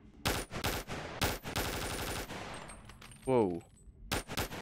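Rapid bursts of AUG A3 rifle fire in the VR game Bonelab, close and punchy with short gaps between volleys, followed by a mechanical rattling sound and a brief spoken exclamation before firing resumes.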